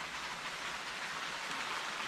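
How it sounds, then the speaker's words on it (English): Rain falls steadily outdoors, a close, even hiss of drops spread over the whole span with no voices. "It's starting to rain out here"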